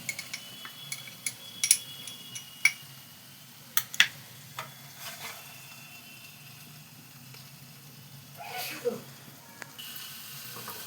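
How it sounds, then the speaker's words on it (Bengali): A soaked paste of ginger, cumin, coriander, dried chilli and turmeric goes into a hot pan for a vegetarian cabbage curry, giving a soft, steady sizzle with faint clinks of a utensil, and a burst of louder hissing near the end. "এইবার এতে দেখো আমি এই যে আদা জিরে ধনে শুকনো লঙ্কা আর হলুদের গুঁড়ো ভিজিয়ে রেখেছিলাম, এটা দিয়ে দিচ্ছি।"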